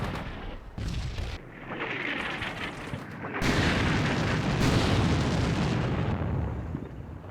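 155mm artillery shells keep landing in the wargame Combat Mission: Shock Force 2, a dense rumbling barrage of overlapping booms and blasts that grows heavier and louder partway through, with no voices.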